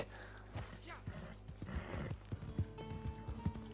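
Horse hooves clip-clop in uneven bursts with brief snorting and neighing in the video game Red Dead Online, fairly close and moderately loud, with light background music.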